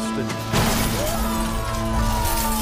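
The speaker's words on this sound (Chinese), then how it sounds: "一声巨响后，汽车如同香蕉皮一样绽开" A rear-engined car slams into a sharpened snowplow blade at 70 mph, producing a sudden loud crash and shattering burst about half a second in, followed by a sustained noisy wash with a steady tonal backing.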